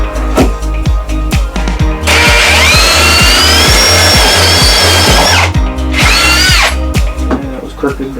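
A power drill bores up through a boat floor while fixing a rudder problem, running loud and steady with a rising whine through the middle stretch, then briefly revving again near the end.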